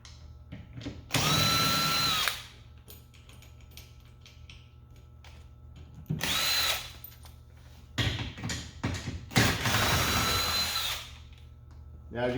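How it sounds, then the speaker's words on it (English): Drill driver with a 10mm socket spinning off roll bar bolts on a Jeep JK Unlimited, three loud bursts of whirring at close range separated by quieter handling noise and brief talk. "you either use a drill driver or a ratchet to get these off"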